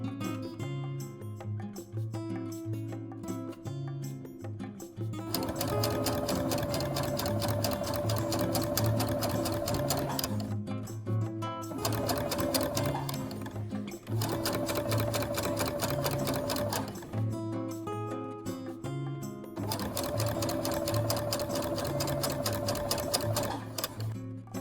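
Home sewing machine stitching a fabric strap for a reusable face mask, running in several steady whirring bursts with short pauses between them, heard over soft background music.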